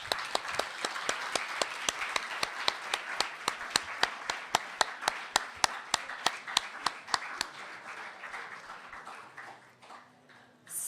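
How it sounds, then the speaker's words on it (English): Audience applause for Tanya Lee and Chris Hahn, heard at first as a steady, evenly spaced rhythmic clapping in unison, then loosening into scattered claps that trail off, fairly quiet overall. "So a warm applause to Tanya Lee and Chris Hahn."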